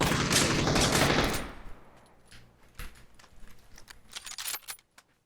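An MG3 machine gun firing at 990 rounds per minute in a video game, with a loud, rapid burst for over a second, then fading to scattered fainter clicks and thuds.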